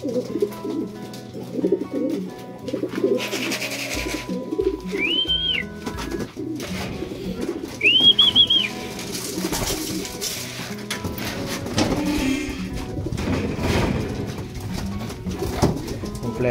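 Racing pigeons at a loft give a couple of short coos and calls amid a busy outdoor background with faint talk and scattered noises.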